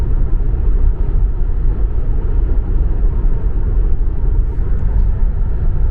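Steady low road and wind roar inside a Tesla Model 3 rear-wheel-drive cruising at 110 km/h on a foggy road with acoustic front glass, a constant loud rumble with no talk.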